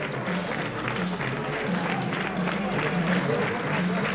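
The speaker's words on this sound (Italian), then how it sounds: "Continuano a far festa i tifosi in tribuna." Football fans of Maceratese celebrating in the stands after a match against Gualdo, a dense, distant blur of crowd noise and scattered clapping running steadily under commentary.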